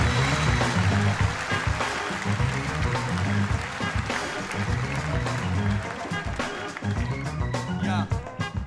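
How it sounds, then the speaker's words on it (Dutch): At a Rotterdam sports awards gala an audience applauds the Rotterdam Marathon director, a long wash of clapping mixed with a thumping musical beat, moderately loud and continuous. "Ik vraag een warm Rotterdams Rijnmonds applaus voor Mario Kadix."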